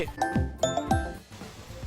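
A phone rings with a short, bright electronic melody of chiming tones, repeating in quick bursts at moderate volume.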